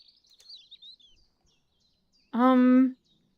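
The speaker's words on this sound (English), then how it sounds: "We're gonna do this so I can hear the birds." A bird call played in the Wingspan board video game: faint, high twittering chirps early on, then one loud, harmonic call-like tone of about half a second, standing alone without talk.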